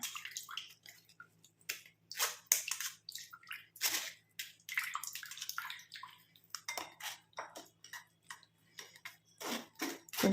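Herbal juice strained a little at a time through a strainer, close, uneven splashes and trickles of liquid with small ticks and taps, in short bursts separated by quiet gaps.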